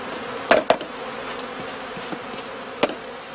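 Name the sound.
honey bees buzzing around skep hives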